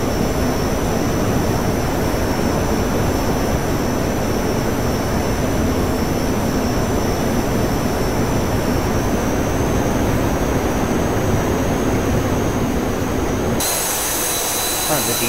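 An English Electric Canberra jet engine in a flight simulator roars loud and unbroken with a high whine layered on top, and the sound cuts abruptly to a thinner hiss near the end.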